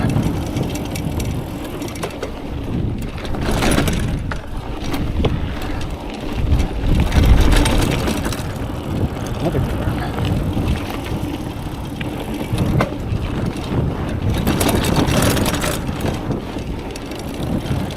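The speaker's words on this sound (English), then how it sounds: "I'm just riding a typical hardtail mountain bike." A hardtail mountain bike on the jump lines of a new bike park in Joplin: a continuous rumble of tires on dirt, with frame and chain rattle and heavy wind buffeting on the microphone.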